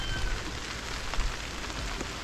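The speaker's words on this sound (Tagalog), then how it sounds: "ganitong ulan lang yung ating nararanasan ngayon" Steady rain falls on surfaces in a rural Philippine setting during a low pressure area, a dense, even hiss with scattered drop patters, continuous and fairly loud with no talking.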